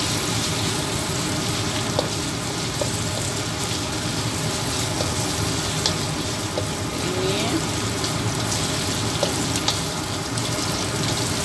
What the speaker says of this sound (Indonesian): Kita goreng ya sampai halus.